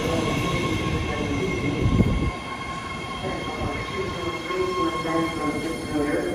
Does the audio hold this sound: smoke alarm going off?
no